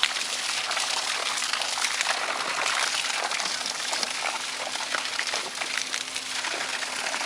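A 12V 120W DC submersible solar water pump drives a strong, steady gush of water through an 8-metre hose, with a continuous loud rushing and splashing that never lets up.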